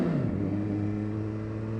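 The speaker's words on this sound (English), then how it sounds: "This has got a Yoshi exhaust on it, but it's not excessively loud when you're riding it normally." A 2017 Suzuki GSX-R1000 motorcycle with a Yoshimura exhaust holds a steady mid-pitched engine drone after a brief pitch drop at the start, loud and close, with no talking.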